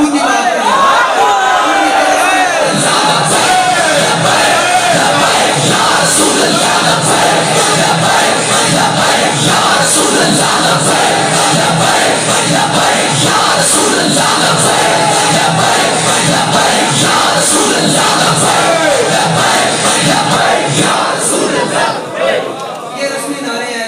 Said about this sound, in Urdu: حضور کا نعرہ لگائیں